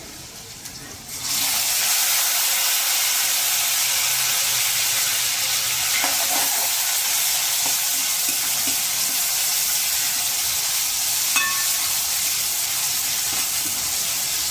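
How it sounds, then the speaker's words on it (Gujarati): Chopped tomatoes and green chillies dropped into hot oil in a pan, sudden loud sizzle bursting in after a brief quieter start, then a continuous, close, steady hiss with a few faint clinks. "મરચાંની સાથે જે ટમેટા કટ કરીને રાખેલા છે તે નાખી દેશો"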